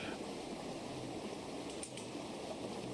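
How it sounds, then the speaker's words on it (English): A rough but shallow river rushing over rocks, a dense, constant close wash of flowing water with no pauses. "she walked down by the river, and she could see how rough that river was"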